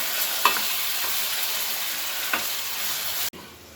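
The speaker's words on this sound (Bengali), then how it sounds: "আমি এবার টমেটোটা মিশিয়ে নেব" Tomatoes being stirred into spices frying in hot oil for a tomato pickle, giving a steady loud sizzle with a few scraping strokes of the spoon, and the frying hiss drops off abruptly near the end.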